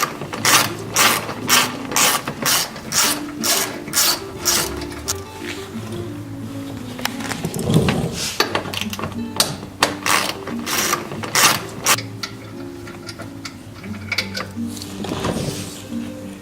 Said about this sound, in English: And we're going to be taking out the bolt.